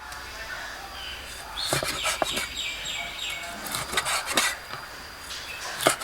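A knife slices fish into strips on a board, with uneven scraping and tapping strokes over a steady background hiss.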